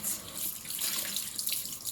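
Water running into a sink where fabric is soaked before ice tie-dyeing with Procion pigment, a steady close splashing flow with no talk.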